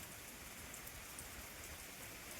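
Light rain falling in a village, a soft, steady hiss of fine drops, faint and continuous with no other sounds.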